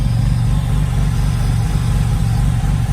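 The self-built engine of an S5 Killer Bee idles just after its first start, a loud, near, deep rhythmic throb holding steady throughout with no voices.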